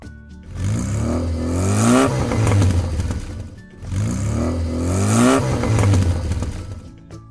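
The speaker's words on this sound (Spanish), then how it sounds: "Motorciclo." A motorcycle engine revs hard twice in close succession, each burst rising and holding loud with a rough, whirring roar before dropping off, heard up close with no talk over it.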